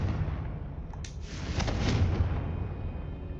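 A Confringo spell detonates in Hogwarts Legacy with a sudden fiery burst, followed by a rolling, rumbling blast that swells and fades over a few seconds, loud and close, with no talking.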